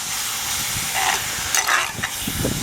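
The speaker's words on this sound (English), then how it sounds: "And this is my chicken. As you can see, it's sizzling up really nicely." Chicken sizzling in a cast iron pan over charcoal and being stirred, a steady close frying hiss with scraping stirs rising over it, no voices.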